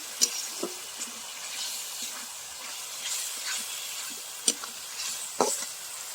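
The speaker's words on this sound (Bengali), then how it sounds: "একটু জল দিয়ে দিব, মশলা পুড়ে যাচ্ছে।" Water splashed into turmeric and spices frying in a pan for a chicken curry, giving a soft hiss of steam and sizzle with a few sharp clinks of a spoon, fairly quiet and with no voices.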